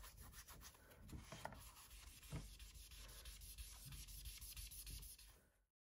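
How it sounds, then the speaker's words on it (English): A damp Magic Eraser sponge cut from a larger one scrubs across a paint palette surface, giving quiet, steady rubbing strokes that continue for several seconds, then stop, with no voices. "I'll get it a little bit wet, and then I'll just wipe off"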